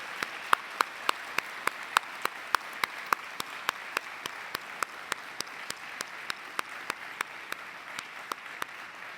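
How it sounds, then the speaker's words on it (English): An audience at a World War II museum event applauds steadily, a dense bed of clapping with one nearby clapper hitting loud, evenly spaced claps all the way through. "let's have one round of applause for those who fought and won 80 years ago"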